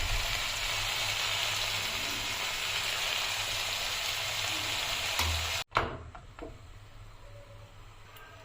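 Roti flatbread frying in a pan gives a steady, dense sizzle that runs for over five seconds, then cuts off abruptly and leaves only a quieter, faint crackle.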